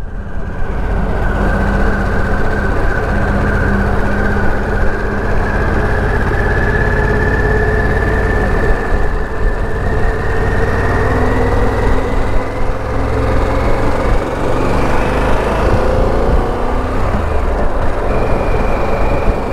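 A Harley-Davidson Pan America 1250 motorcycle engine drones loudly and steadily throughout, its pitch slowly rising and falling with speed, a continuous heavy rumble with no talk over it.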